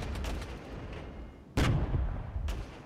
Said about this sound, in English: Alright, let's grab our artillery.